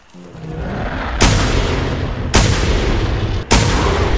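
In the hunting game The Hunter Primal, three loud booming gunshots ring out about a second apart, each with a long rumbling tail, close and dominant.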